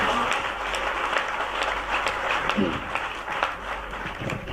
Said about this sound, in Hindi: जोरदार तालियां आप बजाएं